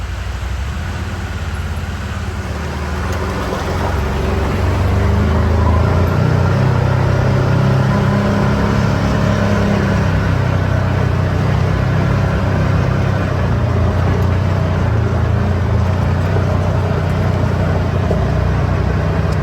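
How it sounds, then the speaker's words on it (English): A vehicle engine idles at a gate, a steady low rumble that holds at an even, moderately loud level for the whole stretch. No one speaks. "there's definitely a vehicle sitting at my gate"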